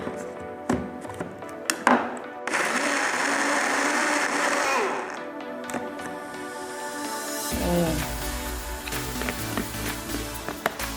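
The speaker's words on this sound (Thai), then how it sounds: "ใส่ไปหนึ่งช้อนนะคะแล้วก็ปิด แล้วเราก็จะปั่นเลยนะคะ" An electric blender whirs loudly for several seconds while a tea shake with coconut is mixed, preceded by clicks of the lid and a scoop, then a lower motor hum with light handling sounds.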